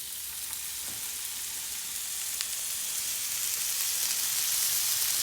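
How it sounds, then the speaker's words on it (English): Ribeye steak sizzling steadily in a hot pan, a bright continuous crackle that grows slightly louder, with a few faint pops. "that sizzle is going to make that nice crust"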